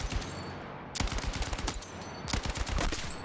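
Rapid bursts of KTS gunfire in the video game Battlefield 6, two sustained automatic strings of snappy shots separated by a short pause.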